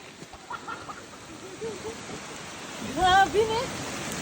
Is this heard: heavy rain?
yes